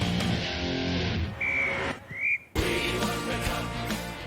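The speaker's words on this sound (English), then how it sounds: "The full-time whistle blows" A referee's full-time whistle is blown in short shrill bursts, loud and close, over a busy background of crowd and room noise.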